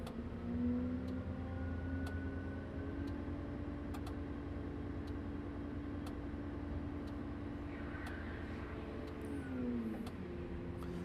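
An articulated dump truck's diesel engine hums at a steady pitch under throttle as the tipper body raises, with faint periodic ticking and a pitch drop near the end, close and continuous with no talk.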